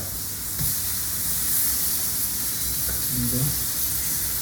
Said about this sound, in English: Put that in the pan. Sizzle, sizzle, hopefully.